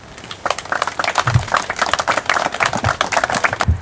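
Ceremony audience at a deportation commemoration breaking into applause, dense steady clapping from many hands throughout.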